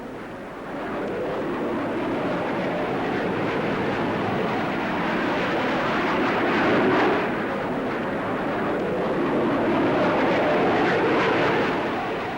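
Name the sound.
Hawker Hunter jet aircraft flying at Farnborough Airshow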